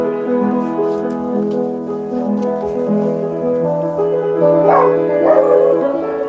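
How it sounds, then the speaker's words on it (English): A dog whines and yips in long, tonal howling cries, close by and continuous, with a couple of sharper yelps near the end. "What's with all the barking?"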